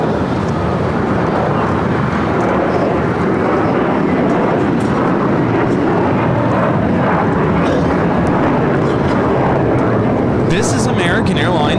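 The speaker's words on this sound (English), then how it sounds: "This is American Airlines 1585 taking off to Charlotte on the A321" An American Airlines Airbus A321 jet taking off at LAX roars in a broad, loud, sustained rumble with wind buffeting, while people talk over it.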